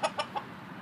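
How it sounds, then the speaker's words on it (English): A rooster on a farm gives three short, sharp calls in quick succession, close and loud, each fading fast before a quiet background. "the rooster!"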